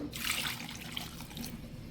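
Water pours into a cooking pot while pumpkin and chopped chillies are being prepared, making a brief, quiet splashing rush.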